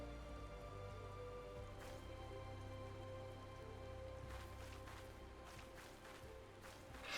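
Steady rain pours down in Final Fantasy 14, a constant close hiss of drops on surfaces that runs unbroken and alone, with a few sharper spattering bursts toward the end.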